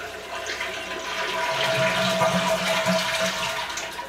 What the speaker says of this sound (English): Then you flush to empty out what you got in the tank.